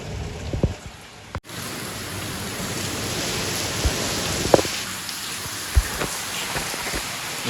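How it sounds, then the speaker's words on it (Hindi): Heavy rain pours steadily at a brick kiln, a dense continuous hiss of drops drumming on surfaces, with a few louder nearby splats and a brief dropout early on. "बहुत ज़्यादा तेज़ बारिश है, घनी ज़्यादा"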